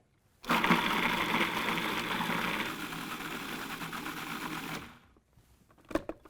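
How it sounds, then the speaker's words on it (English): A food processor purees vegetables into a fine paste for a chicken ragu, a loud, steady whirring motor that runs for several seconds, then cuts off abruptly, followed by faint clatter. "puree your vegetables in a food processor instead of chopping them by hand"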